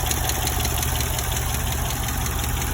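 A 2006 Chevrolet Impala SS engine runs at a steady idle after spark plug, coil pack and ignition wire replacement, giving a close, continuous rumble with a faint rhythmic pulsing and no voices.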